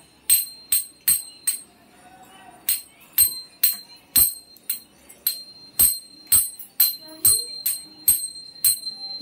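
A metal worship bell rings in quick, steady strokes during a Ganpati welcome puja, loud and close, with bright ringing tones between hits and faint voices in the background.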